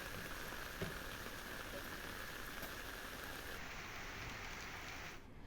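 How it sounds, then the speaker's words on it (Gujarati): Heavy rain driven by strong wind during a sudden evening weather change in Unjha, Mehsana, Gujarat, a dense continuous wash of falling water that stays fairly faint and even throughout, with no speech. "ભારે પવન સાથે વરસાદની શરૂઆત થઈ."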